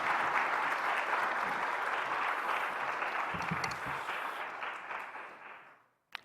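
A church congregation at a spring revival service claps warmly to welcome the guest pastor, a full, dense roomful of applause that holds steady and then fades away to silence near the end.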